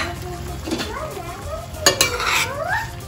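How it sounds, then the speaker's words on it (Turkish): A spoon stirs roasted capsicum and green peppers with chopped garlic and parsley in a pot for an oily pickle, a close wet scraping and sloshing with a couple of sharp clinks against the pot. "Bunları güzel bir şekilde karıştırıp kavanozlarına dolduracağım."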